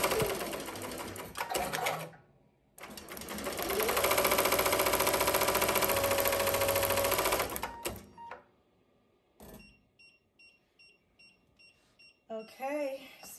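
A Ricoma MT1501 embroidery machine stitches in a loud, fast, steady mechanical whir, pausing briefly, then running again for several seconds before stopping, followed by a few quieter clicks and beeps.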